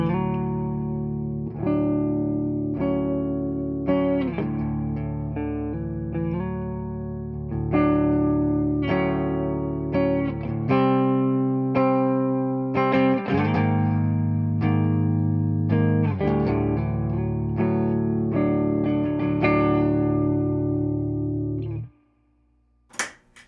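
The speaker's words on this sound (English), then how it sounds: "let's listen to what it sounds like clean with the noise gate and then without the noise gate" A Les Paul Custom plays clean through a Mesa Nomad 55 amp with the noise gate in use, giving ringing arpeggiated chords and picked lines with bright sustain, followed by a sudden stop into near silence and a brief final pluck.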